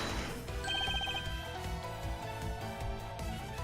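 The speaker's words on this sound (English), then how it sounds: "I'm sorry, my phone's going off." Mobile phone ringing with a short repeating melodic ringtone over game music in the background, brief and moderately loud.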